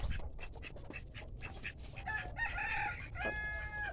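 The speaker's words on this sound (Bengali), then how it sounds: "এই মুরগির ঘর" Chickens cluck and a rooster crows at a village henhouse in Munshiganj, Bangladesh, a faint scatter of clucks and scratches giving way to a drawn-out crow and another rising call at moderate distance.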